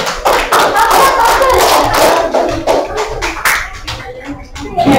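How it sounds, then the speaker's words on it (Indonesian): A classroom of students claps for group 2 after their presentation, a loud, close burst of rhythmic hand clapping with some shouting and chatter mixed in that tapers toward the end. "Beri tepuk hebat untuk kelompok 2"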